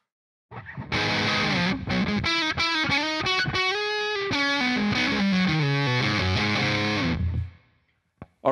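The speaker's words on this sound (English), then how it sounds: "And this is what it sounds like with distortion." A nylon-string guitar played through heavy distortion, chords and riffs played steadily for several seconds, loud and dense, ending with a short pause and a final hit.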